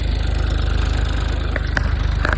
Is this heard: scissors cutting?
no